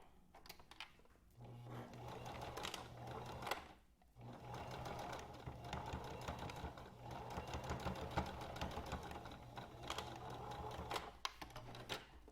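Sewing machine back stitching a homemade fabric face mask, a quiet rapid whirring run that pauses briefly and resumes, close up with no speech.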